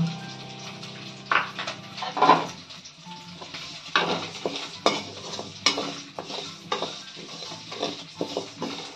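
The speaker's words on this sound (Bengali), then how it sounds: "তেল দিলাম না, শুকনো কড়াইতে ডালগুলো ভেজে নেব।" Moong dal dry-roasted in a hot wok without oil, heard as dry rattling and scraping stirs with occasional clinks of a utensil against the metal, close and moderately loud, with no voices.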